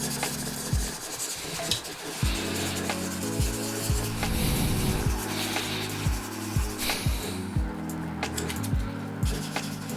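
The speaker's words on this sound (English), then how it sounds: "So when you're doing this much sanding" Sanding a plastic model kit by hand, with repeated abrasive rubbing strokes in an uneven rhythm and soft knocks in between, heard close and alone.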